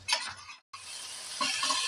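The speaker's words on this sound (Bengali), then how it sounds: "যতক্ষণ না তেল ছাড়বে ততক্ষণ আমি এটাকে একটু ভাজা করতে থাকবো।" Tomatoes frying in hot oil in a pan for chole, giving a loud, close, steady sizzle with a brief break and some stirring scrapes, with no voices.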